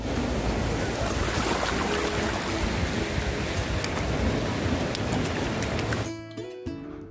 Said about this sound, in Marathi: छोटी गौरी सर्वांच्या अगोदर समुद्रात लाटांना ये ये करून बोलवते.